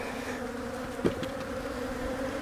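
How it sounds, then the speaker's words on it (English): A dense, steady buzz of many agitated honey bees fills the whole stretch, constant and close, with one brief thump partway through, during a spring brood box inspection of a beehive. "a bunch of really mad bees"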